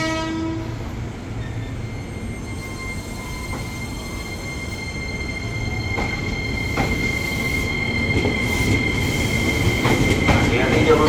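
An electric commuter train departs Universitas Indonesia station, rumbling and slowly gathering speed, wheels squealing and grinding on the rails, with a drawn-out electric whine and faint station sounds around it.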